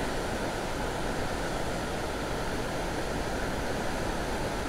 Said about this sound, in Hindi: इतना तेज़ इतना पानी का शोर आ रहा है ऊपर